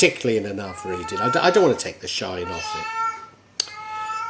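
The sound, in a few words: cat in heat meowing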